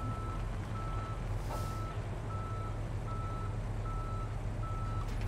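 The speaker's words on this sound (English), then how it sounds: "Please send a tow truck to my current location." A tow truck reverses in the Police Simulator: Patrol Officers video game, sending out a steady series of evenly spaced reversing beeps over a constant low engine rumble.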